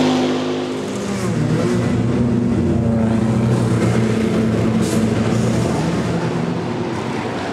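The Hendrick Motorsports NASCAR Chevy Camaro, the Garage 56 entry at the 24 Hours of Le Mans, roars past loudly at sustained high revs. The engine drone is steady and forceful and stays close for the whole stretch.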